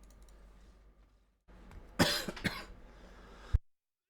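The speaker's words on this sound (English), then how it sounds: "Second I hit record, I started coughing." A person coughs in a short cluster of three harsh bursts close to the microphone, followed by one final sharp cough, with quiet room noise beforehand.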